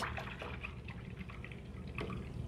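A paint brush is swished and rinsed in a water cup during acrylic painting, giving faint, close, continuous liquid sloshing and dripping with no talking.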